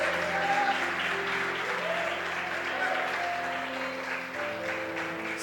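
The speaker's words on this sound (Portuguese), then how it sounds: "Aplauda o Senhor, irmãos" A church congregation claps together during an anniversary service, dense steady applause over sustained music, with voices heard faintly underneath.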